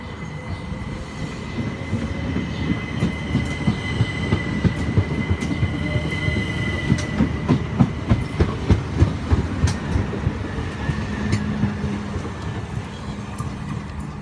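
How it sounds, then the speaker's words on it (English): A Southeastern Class 375 electric train, unit 375 616, pulls away from platform 6 at Ashford International with steady rail rumble and a rapid clickety-clack of wheels over joints, building slightly, close and loud throughout. "Just about to depart platform 6 is the Canterbury West train for Southeastern, 375 616."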